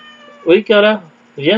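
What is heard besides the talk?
cat meowing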